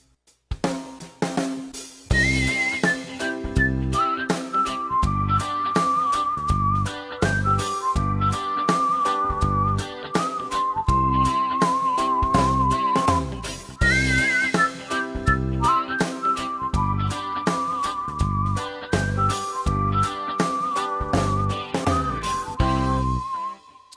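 Whistling voice preset played on a Ketron SD9 arranger keyboard, a bright sustained whistle melody over a full rhythmic backing track, steady and loud throughout with no talking.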